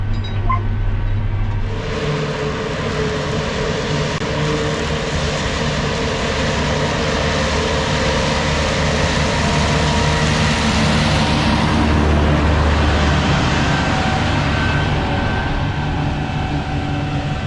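Farm swather pulling away across a hay field, a steady loud machinery drone with engine harmonics holding throughout, no talking.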